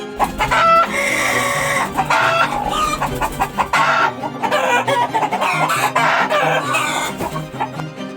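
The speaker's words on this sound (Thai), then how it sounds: "ไก่ทุกตัวกระโดดหนีจากมือเขาไปจนหมดสิ้น" Chickens cluck and squawk in a loud, busy flurry close by, with agitated calls overlapping one another throughout.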